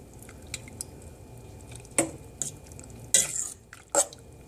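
A spoon stirs melting cheese in a pot for macaroni and cheese, producing a few soft wet squishes and scattered clinks against the pot, close and sparse.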